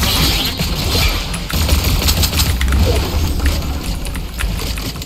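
Loud, continuous gunfire in the video game Fortnite Battle Royale, overlapping bursts of rapid shots and impacts crackling throughout with little pause.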